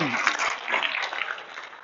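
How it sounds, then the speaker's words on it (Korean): An audience claps for a participant who has just introduced himself at a corporate lecture, a brief burst of dense applause that starts strong and slowly thins out. "박수 한번 주세요"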